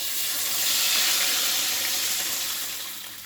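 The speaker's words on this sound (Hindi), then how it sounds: "जितना घी उसमें बचा है उसमें अब मैं दूध को डाल दूंगी" Raw milk poured into a pan of hot leftover ghee while making Odisha's Khira Gaintha Pitha dessert gives a loud, steady hissing sizzle that swells and then slowly fades.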